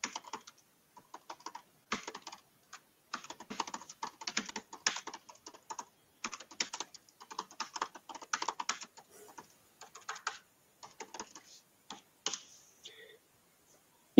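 Rapid, irregular keystrokes on a computer keyboard while a chat message is typed during a webinar, close and fairly quiet, coming in uneven bursts with brief pauses and no talking.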